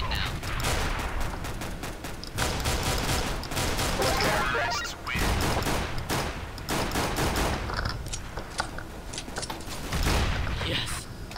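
Tec-9 pistol fire in Counter-Strike: Global Offensive cracks out in dense, rapid bursts with other gunfire nearby, loud and near throughout, while players talk over the shooting.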